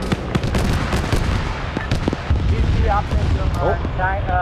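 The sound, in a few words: rocket artillery fire in a US vs Russia tank battle video game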